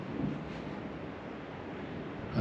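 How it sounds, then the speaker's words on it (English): Wind blows outdoors at a priory on a winter night, a steady broadband rush buffeting the microphone, with a brief gust swelling at the end. "the wind is blowing from the east"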